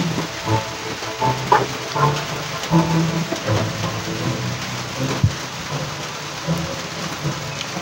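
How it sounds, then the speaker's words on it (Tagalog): Steady rain patters on a surface, with scattered heavier drips and knocks standing out against the continuous wash. "Sakto maulan dito sa amin."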